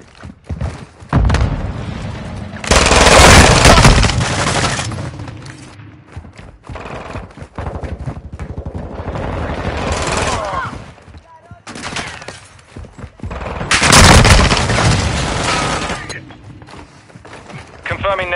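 Video game gunfire in loud dense bursts of rapid shots, two long volleys separated by quieter stretches with scattered single shots.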